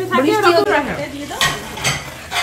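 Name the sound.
meat being stirred and fried with a spatula in a pan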